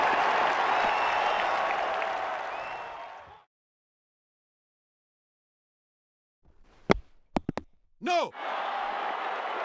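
Crowd at an India v Australia Test match applauding a fine innings, a broad sustained roar of clapping that cuts off abruptly, then a few sharp knocks and a brief burst of crowd noise returning.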